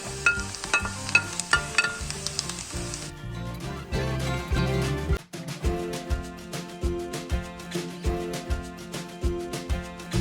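Carrots go into melted butter in a pan for a vegetable green lentil pilaf, giving a steady sizzle with repeated stirring clatter and spoon-on-pan knocks, close and fairly loud.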